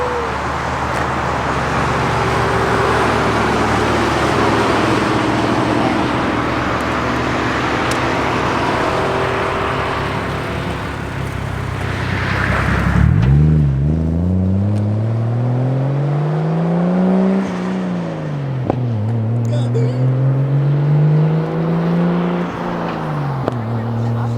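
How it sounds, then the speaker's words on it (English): A car engine idles loudly nearby, then revs hard and roars past, its pitch rising and falling through several gear changes. "so we're gonna have Nacho actually do a little drive-by, so we're gonna get it with the phone and the camera"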